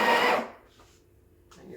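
Breville Barista Express BES870 grinding coffee beans, a loud close whirring burst lasting about half a second before cutting off, leaving faint mechanical rattles and a brief clatter afterward.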